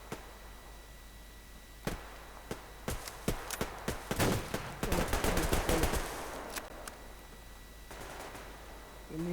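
Gunfire in the online shooter game Survarium: scattered single shots build into dense rapid volleys in the middle, then thin out to a few final cracks.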